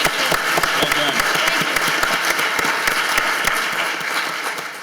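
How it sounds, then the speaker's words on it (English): An audience at an intelligence summit panel applauds to congratulate a retiring officer, a dense, loud burst of clapping with sharp individual claps standing out, tapering off toward the end. "a big round of applause to congratulate her"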